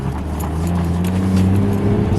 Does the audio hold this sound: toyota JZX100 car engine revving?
yes